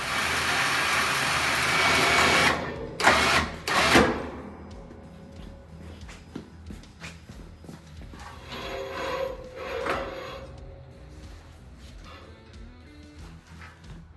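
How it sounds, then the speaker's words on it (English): A winch on a Can-Am Defender hauls a snowplow up off the ground, sounding as a close mechanical whine and clunking, with a few loud knocks early on, then quieter intermittent rattles and motor hum. "The plow is now being lifted off the ground by the winch."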